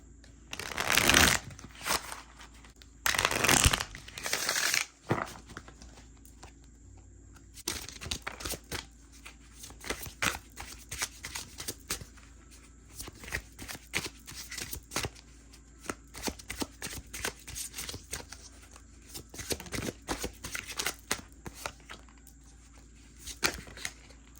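A slightly stiff Harmony Tarot deck is shuffled repeatedly, with loud riffling bursts early on followed by many quick snapping, flicking card sounds in an irregular rhythm, close up with no voices.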